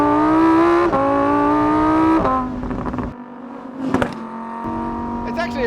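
The engine of a Lamborghini Huracan EVO Spyder RWD revs hard and climbs through the gears, a loud, steady tone that steps down between shifts, with wind rush and crackles as it settles.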